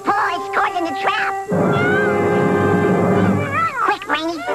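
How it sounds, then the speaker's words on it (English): A cartoon wild cat with its paw caught in a trap cries out in a long, loud, wavering yowl between stretches of voiced character dialogue before and after. "The wild cat's paw is caught in the trap!"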